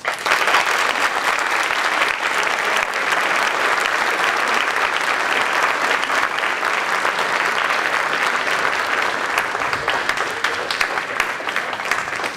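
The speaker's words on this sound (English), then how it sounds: "Let's give another round of applause to Northwest College." Dense, steady audience applause at a ceremony honouring Northwest College for a prestigious award, filling the whole stretch loudly and evenly without letting up.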